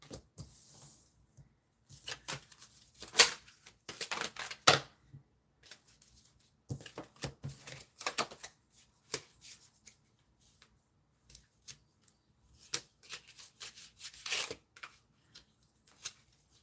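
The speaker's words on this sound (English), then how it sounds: "So I'm just going to start shuffling." Soft papery riffling of tarot cards being shuffled in repeated bursts with short pauses, close by and fairly quiet, no talking.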